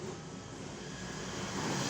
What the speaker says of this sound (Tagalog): So i-plug natin para malaman natin kung siya andar.